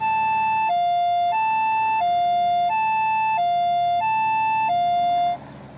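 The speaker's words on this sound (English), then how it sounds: "European ambulances have a more musical, high-low sound" A European ambulance siren sounds a musical two-tone high-low pattern, alternating steadily about every two thirds of a second for several cycles before cutting off, loud and clear.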